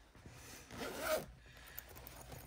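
Zipper on the front pocket of a small embroidered mini tote bag pulled once in a single smooth zip, close and fairly soft against quiet room noise.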